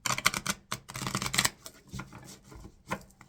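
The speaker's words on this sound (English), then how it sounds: "Let's give it a good shuffle first" Rapid riffling bursts of a card deck being shuffled, crisp and close, followed by softer intermittent taps and slides.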